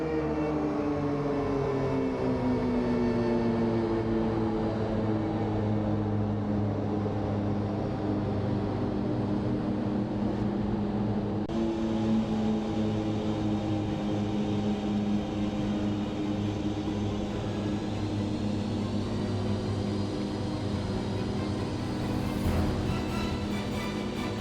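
Pilatus PC-7 propeller planes in a virtual airshow game drone steadily past, their engine tones sliding gradually in pitch over a long, continuous pass with no talking.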